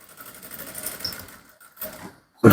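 A sewing machine stitching the waistband of an Ankara trouser gives a close, steady mechanical whirr in short runs with brief pauses, ending in a sharp louder clatter.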